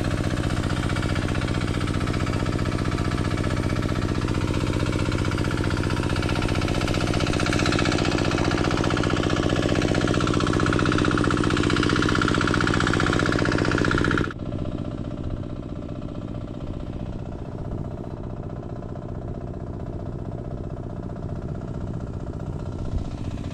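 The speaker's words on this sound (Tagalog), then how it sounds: "Paandarin natin yung makina para mahigop yung tubig." Engine-driven water pump drawing water from a flooded farm field, a loud steady mechanical chugging drone that drops abruptly to a quieter running note partway through.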